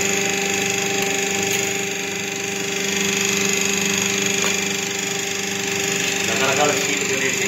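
A semi-automatic paper plate making machine runs with a steady, close mechanical drone and hum, constant throughout with faint clicks, and no clear gaps.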